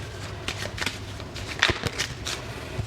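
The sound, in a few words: shuffling dragon fortune tarot cards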